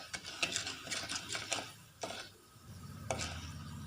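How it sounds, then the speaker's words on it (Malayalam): Chana dal and urad dal frying in a pan, stirred with a spoon: soft, intermittent scraping and clicking strokes up close, fairly quiet, with no talking. "കടലപ്പരിപ്പ് ഉഴുന്നുപരിപ്പൊക്കെ ഒന്ന് മൂത്ത് വരുന്നവരെ ഒന്ന് ഇളക്കി കൊടുക്കാം"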